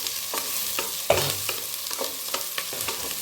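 Onions fry in a pan for peas pulao while being stirred, a constant close sizzle broken by rhythmic scraping strokes of the spoon, with one sharper knock.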